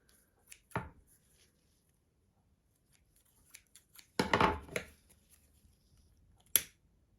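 Scissors trim loose ribbon ends for a craft gift box, making a few quiet, isolated snips and one longer cutting rustle in an otherwise silent room.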